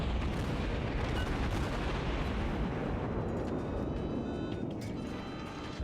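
Ship artillery in the video game World of Warships, fired from the St. Louis, comes as a dense, continuous low rumble of booming gunfire at a steady moderate level. It fades slightly toward the end.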